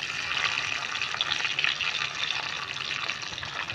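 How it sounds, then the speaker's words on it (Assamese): Boiled potatoes sizzle in a hot pan, a steady, close frying hiss with light crackle running unbroken through the whole stretch, no voices over it. "এইবাৰ আকৌ আলুখিনি অকণ ভাজি ল'ম"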